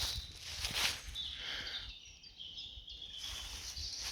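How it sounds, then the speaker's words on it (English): Birds sing and chirp in a natural woodland, moderately distant, with repeated bright calls over quiet ambience and occasional soft rustles. "Listening to the birds in the background"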